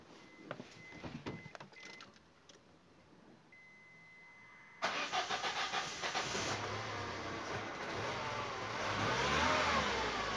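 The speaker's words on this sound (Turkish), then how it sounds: "Çalıştırıyoruz aracı." A 2000 gasoline car engine cranks and catches partway through, then settles into a steady, loud running hum with hiss, after quieter clicks and handling noises.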